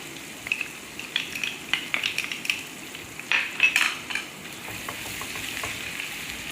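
Garlic fries in a pan with ginger added for dhaba-style dal, making a soft, crackling sizzle broken by frequent scrapes and stirring clatter, with a louder burst of sputtering partway through.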